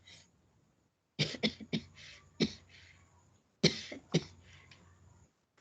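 Two bursts of coughing, each a quick series of harsh, close coughs separated by a short quiet pause, with no talking.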